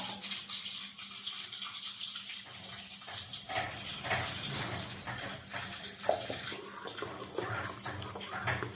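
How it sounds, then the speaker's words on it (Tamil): Ground tomato is poured and stirred into tamarind water for a tomato and ladies finger kuzhambu gravy, giving a steady, close sloshing and swirling of liquid throughout with no talking. "so my mother is mixing nicely for gravy and tasting."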